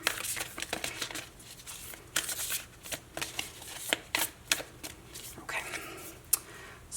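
Tarot oracle cards are drawn and shuffled from a deck, producing close, quiet riffling and sliding card sounds in irregular bursts, alone without speech.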